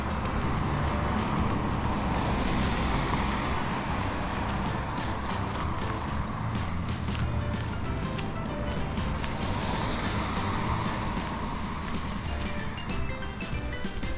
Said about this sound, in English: Quite a bit of traffic.